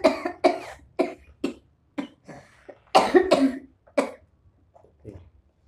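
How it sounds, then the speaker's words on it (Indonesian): A patient coughs repeatedly during a therapy session, about ten sharp, close coughs in an irregular rhythm, a few in quick pairs, fading to softer ones at the end. "pasien suruh batuk"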